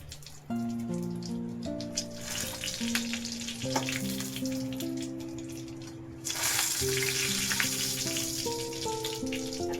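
Potatoes fry in hot oil with a soft crackling sizzle that swells louder partway through, heard beneath prominent background music.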